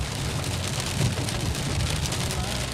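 Heavy rain falls steadily during a thunderstorm, a dense even hiss of drops on surfaces with a low rumble underneath, continuous and close.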